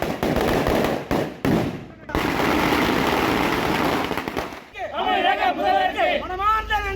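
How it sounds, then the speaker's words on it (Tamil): Villagers bursting firecrackers in a celebration: dense, continuous crackling bursts fill the first several seconds, then give way to a crowd of voices cheering and shouting. "ஏகனாபுரம் கிராம மக்கள் பட்டாசு வெடித்து கொண்டாட்டம்"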